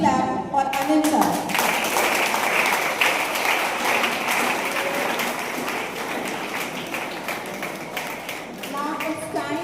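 Students, teachers and guardians at an RBT Vidyalaya school GK quiz clap for Anil sir, steady crowd applause holding for several seconds and easing slightly, with a voice speaking over the start and again at the end.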